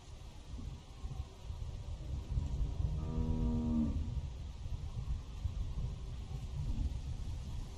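Video-game cow on a dairy farm gives a single low, drawn-out moo lasting about a second, heard at moderate distance over steady rumbling ambient noise.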